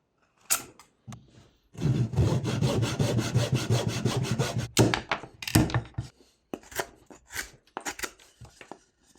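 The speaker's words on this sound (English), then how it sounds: "using the handsaw for the first half of these big stop cuts makes the process much more efficient" A handsaw cuts soft European aspen firewood for stop cuts while carving a parrot. It gives a steady run of close, rhythmic rasping strokes, with scattered knocks and handling sounds before and after.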